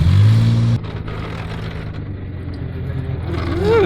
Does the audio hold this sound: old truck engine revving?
yes